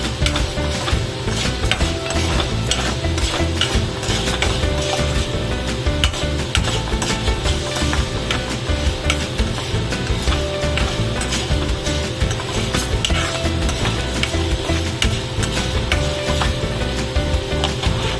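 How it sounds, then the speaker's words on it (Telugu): Mustard seeds splutter and pop in hot oil while a dosakaya roti pacchadi is cooked, a loud continuous crackling sizzle with dense rapid pops throughout. "ఆవాలు కొంచెం చిట్టుపట్లాడాలి"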